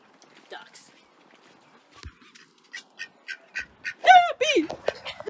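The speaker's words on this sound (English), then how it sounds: "Ducks." Ducks quack in a rising series of short, nasal calls, sparse at first and then louder and more frequent, close by, with a voice also speaking.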